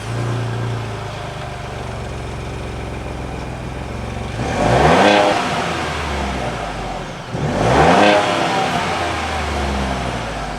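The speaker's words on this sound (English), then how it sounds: "let's go ahead and take a quick listen to this exhaust" A 2021 Ford Bronco Wildtrak in Cactus Gray idles with a low exhaust burble, then its engine is revved twice, each rise swelling loud and close before dropping back to idle.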